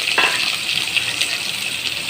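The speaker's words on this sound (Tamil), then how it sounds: "இது நல்லா வந்து பொன்னிறமாக வதக்கிக்கிறோம்." Onions sautéing in a pan to go golden for chicken biryani, giving a steady soft sizzle with a brief louder scrape or stir near the start, close and alone.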